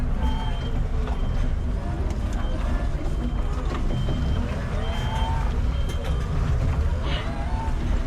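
Hangcha forklift reversing with a steady, repeating beeper over a constant loud engine and hydraulic rumble, close by and continuous throughout.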